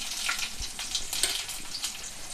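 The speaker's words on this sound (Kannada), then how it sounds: "ನೆಕ್ಸ್ಟ್ ನಾನು ಬೆಳ್ಳುಳ್ಳಿ ಒಗ್ಗರಣೆ ಕೊಡ್ತೀನಿ" Garlic tempering sizzling in hot oil, a soft crackling hiss with bursts of spitting pops, fairly faint and steady over a couple of seconds with no voices.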